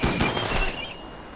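Short burst of video game gunfire: several quick, close shots in the first half-second, then a fading tail with a faint high ringing tone.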